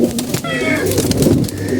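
A flock of kept pigeons, hens among them, coos in a thick overlapping murmur, close and steady throughout, with no talk.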